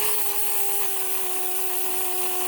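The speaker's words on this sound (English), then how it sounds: "I'm just going to take my flat disc and see what we can maybe flatten that out a bit. And then I'm also going to deburr this whole thing." A flap disc grinds and deburrs metal for an oxygen sensor bung on a classic muscle car, giving a steady, loud, close abrasive whine with a constant high tone held for the whole stretch.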